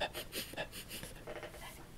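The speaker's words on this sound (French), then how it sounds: "on avait deux kiwis qui étaient dans nos pieds, qui étaient en train de nous renifler" Two kiwi birds in New Zealand sniffing and breathing close at hand, a series of short raspy snuffling puffs and pants like a small dog, irregular rhythm, faint and near, no talk.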